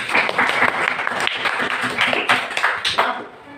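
A classroom of students clap their hands together in a lively burst of rapid, overlapping claps that carry on steadily for several seconds, close and fairly loud, with a few voices faintly mixed in.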